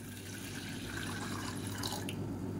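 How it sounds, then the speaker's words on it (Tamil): Water being poured into a horse gram porridge mix, a soft steady trickle and splash heard close and quiet throughout. "சேர்த்துட்டு ஒரு 300 ml அளவுக்கு தண்ணி சேர்த்துக்கலாம்."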